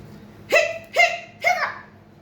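A voice imitates a dog's hiccups three times in a row, each a short, sharp vocal gulp rising in pitch, evenly spaced and close up against a quiet background.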